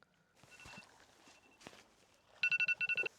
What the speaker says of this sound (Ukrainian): у мене дзвонить будильник